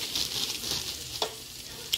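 Steady oily sizzle of food in a deep fryer, a continuous crackling hiss with a few sharper pops, close and moderately loud with no talk.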